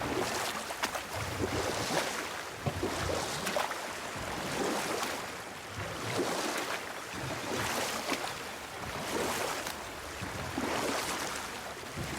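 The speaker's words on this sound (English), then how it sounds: "Keep rowing towards the statues of the oarsmen, then thread past between them." Oars pulling a boat through water in God of War, rhythmic swelling splashes and sloshing every couple of seconds, steady and close, with no voices.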